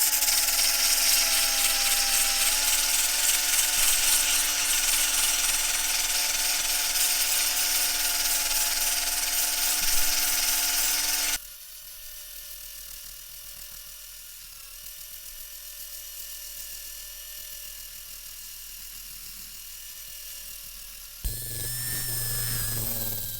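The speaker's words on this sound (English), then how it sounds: "I was using the drill there with the soft pad" Cordless drill fitted with a soft polishing pad working on a Ford Fiesta Zetec S wheel gives off a steady high whine, loud at first, then a quieter, lower-pitched run, then a short louder burst as it restarts.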